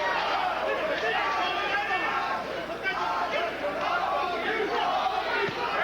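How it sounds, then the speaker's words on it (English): A boxing crowd at an Augie Sanchez fight chants his name, a dense, steady roar of many voices with rhythmic swells, loud and continuous throughout. "The crowd takes up the Augie chant."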